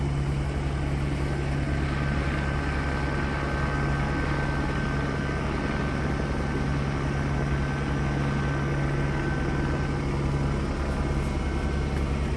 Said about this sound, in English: So the helicopter with the searchlight's still up there.